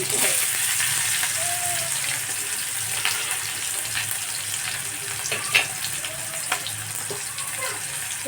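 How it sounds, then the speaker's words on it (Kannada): Mustard seeds splutter and pop in hot oil in a home kitchen as festival cooking is prepared, a steady frying hiss with scattered sharp crackles, followed by sliced onion going into the pan. "ಸಿಡಿದ್ರೆ ಚಟಪಟ ಹಿಂಗೆ ಉಳ್ಳಾಗಡ್ಡಿ ಆಮೇಲೆ ಹಸಿರು"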